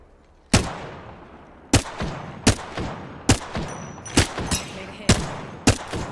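Gunfire in the battle royale game Apex Legends: seven or eight loud, sharp shots spaced roughly a second apart, each with a decaying tail over background game noise and a brief voice.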